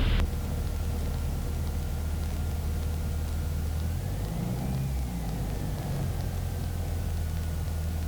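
A light training airplane's piston engine drones steadily inside the cockpit, then its pitch rises and settles as power is added during maneuvers, with no talking.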